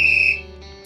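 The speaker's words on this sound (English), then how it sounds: "Eddie, blow the whistle." A whistle gives one brief, shrill blast that quickly fades into the room tone of a sports talk show studio.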